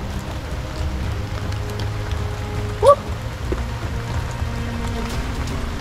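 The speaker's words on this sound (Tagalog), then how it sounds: "lakas ang ulan ngayon" Heavy rain falls as a steady, dense hiss of drops on surfaces, constant throughout, with a brief faint squeak partway through.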